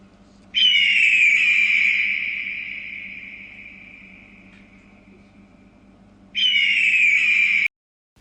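Two loud, screeching eagle calls: the first a long drawn-out cry that slowly fades, the second starting sharply near the end and cutting off abruptly.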